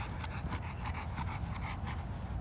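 XL bully dogs panting rapidly and steadily up close, excited over a toy, with some rustling and movement underneath.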